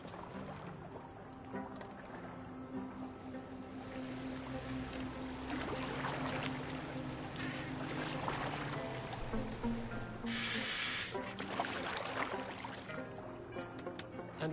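A Viking longboat glides across water in Assassin's Creed Valhalla, a steady low wash of waves and hull splashing with occasional louder sloshes, continuous and moderately close, no talk.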